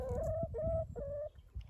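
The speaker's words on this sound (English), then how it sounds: "where we have our hens. Hello girls, say hello to the camera." Backyard hens in their run on a Scottish croft give drawn-out clucking calls, three rising sustained notes in a row, close and fairly quiet, with no talking.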